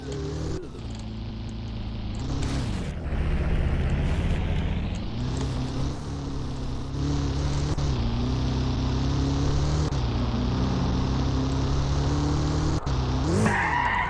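A car drives in Garry's Mod DarkRP, its engine droning steadily with pitch shifts as it speeds up and slows, while tires squeal and skid repeatedly over a continuous, moderately loud run.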